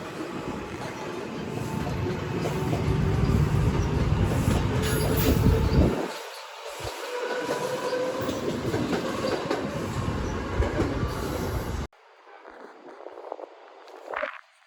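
A Long Island Rail Road train rolls through Hunterspoint Ave station, a loud close rumble with rail noise and wheel squeal for roughly twelve seconds before cutting off, followed by quieter station ambience.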